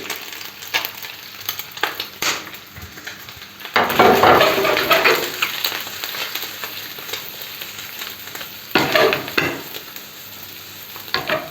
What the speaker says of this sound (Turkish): Bu şekilde yemeğimizi soğan pişinceye kadar kavuruyoruz.